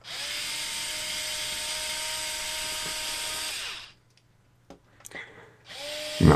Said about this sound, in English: So let's take a look and start removing these screws. They are at least standard Phillips.